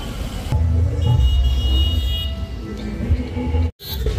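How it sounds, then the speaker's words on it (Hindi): A car driving on the road, its steady engine rumble and road noise continuing for several seconds with a brief dropout near the end. "लिपु भाई ड्राइविंग कर"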